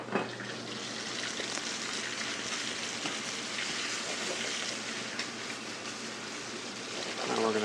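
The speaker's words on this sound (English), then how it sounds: "The crabs are cooked in a preheated cast iron skillet with a ½ inch of canola oil." Crabs fry in about half an inch of canola oil in a preheated cast iron skillet, giving off a steady, dense sizzle and crackle. The frying stays fairly faint and even throughout, with some faint voice in the background.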